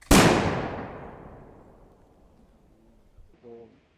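A single musket volley fired by Revolutionary War reenactors at a 1780 Kings Mountain battle program bursts out loudly, then rolls away in a long decaying echo; a voice speaks faintly near the end.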